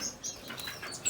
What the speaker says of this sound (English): or the melodious, Cuban melodious finch, or the Cuban grassquits.